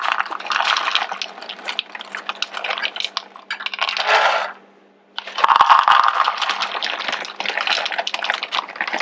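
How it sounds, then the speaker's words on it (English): Two cups of already-chopped pecans poured into a bowl, a dense rattling clatter of nut pieces that pauses briefly midway and then resumes just as loud, with no speech over it. "And then add pecans, which is 2 cups."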